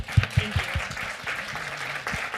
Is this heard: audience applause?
yes